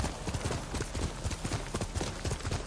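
Horse hooves clip-clop steadily in Ghost of Tsushima, a rapid, even rhythm of close, loud hoofbeats continuing throughout with no talk.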